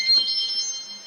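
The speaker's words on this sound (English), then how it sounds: "Oop, that's my alarm clock." A small alarm clock rings with a brief, bright metallic trill that cuts in loudly and fades over about a second.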